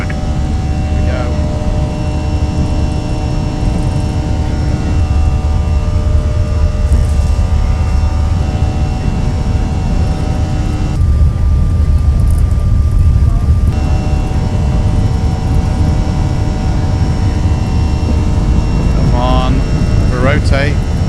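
Airbus A320 in the Prepar3D flight simulator rolling for takeoff, a loud steady engine roar with tonal whine holding throughout, while a voice talks over it.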